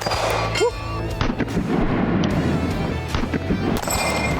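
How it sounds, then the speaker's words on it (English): A single loud rifle shot from a custom-built Copperhead rifle, a sharp close blast with a booming tail, followed by further impacts and rumbling echoes outdoors. "First shot's out of the gun."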